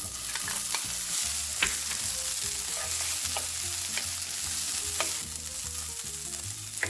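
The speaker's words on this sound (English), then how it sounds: "I'm just going to start with heating this chicken through until it's warm" Already-cooked chicken reheats in a frying pan, sizzling steadily up close while a utensil scrapes and stirs it in irregular strokes, with no talking.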